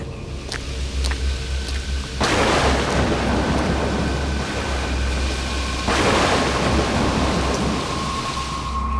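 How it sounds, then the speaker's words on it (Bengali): Heavy rain pours down in a nighttime storm with gusting wind, a loud, dense hiss that surges sharply twice as the downpour intensifies, with no voices over it. "বৃষ্টিটাও তো বেড়ে গেল একটু দাঁড়িয়ে যান না তাছাড়া ঝোড়ের যা বেগ ছাতা হাতে যেতে পারবেন না"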